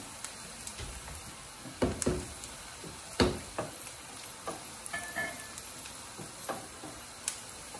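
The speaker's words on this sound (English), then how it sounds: "You can see the onion and the garlic are browning." Onion and garlic browning in a pan, a low, quiet sizzle punctuated by intermittent knocks and scrapes of a spoon stirring against the pan, close and fairly soft, no talking.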